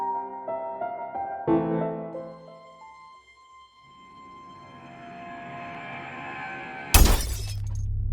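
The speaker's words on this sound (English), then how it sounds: "That night, Ava woke up to the sound of glass breaking." A sudden loud crash of shattering glass bursts in after a stretch of low rumbling and tonal background, followed by a lingering noisy clatter.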